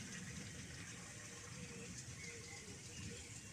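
Steady, continuous rush of flowing water, fairly quiet and even throughout, with no voices.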